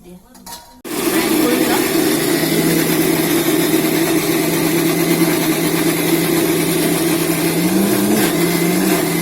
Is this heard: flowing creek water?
no